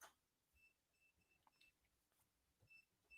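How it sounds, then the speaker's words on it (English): A door lock in an indoor space gives out faint, short electronic beeps, repeated in small scattered bursts against near silence. "Ah, the sound of the beeping."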